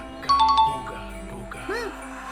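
Chiming bells of the Carillong monster in My Singing Monsters on Shanty Island, a few bright ringing tones and a short melodic phrase mixed with game music while someone talks over it.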